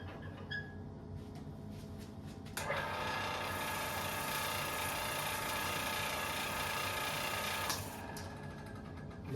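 A router spins up and runs against the edge of a wooden coaster, a loud steady high-pitched whine over motor hum that holds for several seconds before cutting off, with quieter machine noise before and after.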